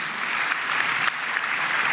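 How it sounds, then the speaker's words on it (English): Dense, steady applause from a large audience at a DeKalb County State of the County address, a continuous wash of clapping that holds at an even level for the whole stretch. "Give Michael a round of applause and the council for College Grove."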